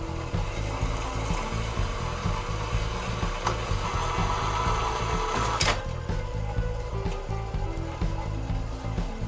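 A power saw cuts through exhaust pipe on an LS-swapped 1974 Corvette, giving a steady, loud, rhythmic buzzing grind that runs the whole time with a brief sharp scrape partway through.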